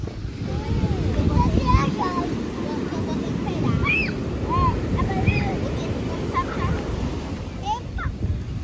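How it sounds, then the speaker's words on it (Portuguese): Strong ocean waves at Cabo Branco beach, a continuous loud roar of surf with gusty wind, while birds chirp faintly and voices murmur in the background. "o mar tá muito forte"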